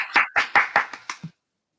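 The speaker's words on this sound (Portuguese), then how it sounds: "E quem gostou, bate palmas." A group of students claps in a classroom after a story is read, about six or seven distinct, fairly loud claps in a loose rhythm that fades and stops after just over a second.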